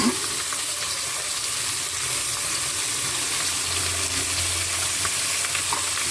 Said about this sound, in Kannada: ಒಂದು ಎರಡು ನಿಮಿಷ ಎಣ್ಣೆಲಿ ಬಾಡಲಿ